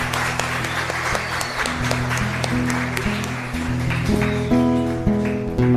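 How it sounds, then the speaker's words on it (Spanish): A congregation in a chapel applauds a group of young people at the close of a Mass, a steady wash of clapping mixed with sustained keyboard or organ notes. "Y un fuerte aplauso de nuevo para estos jóvenes."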